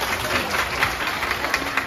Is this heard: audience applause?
yes